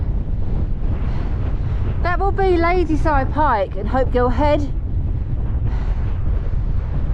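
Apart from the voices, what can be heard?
strong wind on mountain summit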